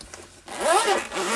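A zipper on a chunky Scribbles That Matter portfolio pencil case is pulled in one quick, close, crisp stroke lasting about a second.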